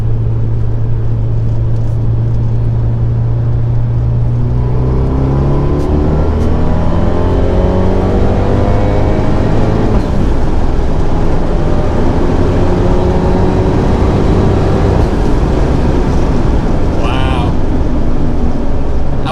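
A widebody Abarth 124 accelerates in third gear from about 3,500 RPM, its engine note rising steadily in pitch over a constant low rumble of road noise, loud and close from inside the cabin.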